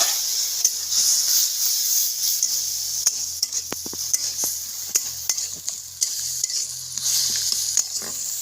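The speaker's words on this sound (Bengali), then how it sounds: "একটু জল দিয়ে কষিয়ে নেব ভালো করে মশলাটাকে।" Spice paste with a little water being stir-fried for a small-shrimp bhuna, a steady sizzle and hiss from the pan punctuated by regular clinks and scrapes of a stirring spoon.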